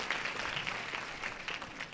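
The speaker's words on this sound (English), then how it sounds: "Your applause is worthwhile" Short spell of audience applause at a 1986 performance, a scattered patter of clapping from a modest crowd, fairly close and even.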